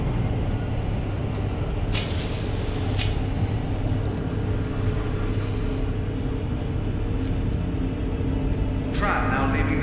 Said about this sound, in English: Tram now approaching.